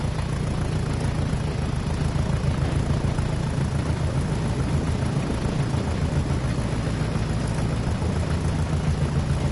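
A Class 37 'chopper' diesel locomotive pulls away with HEA wagons and PCA tanks in a Tees Valley train simulator, its heavy engine giving a loud, continuous rumbling drone with a faint pulsing beat as it departs.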